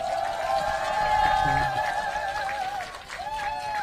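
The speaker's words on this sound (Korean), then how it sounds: "박수 좀 보내주십시오." Applause from a crowd at a 2017 presidential campaign rally in Namwon, North Jeolla, South Korea, a steady wash of clapping under an amplified speaker's voice and crowd noise.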